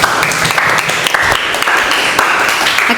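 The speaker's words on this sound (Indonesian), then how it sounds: "Kasih tepuk tangan." A group in a classroom session applauds, producing a dense, steady patter of clapping that fills the few seconds at close range.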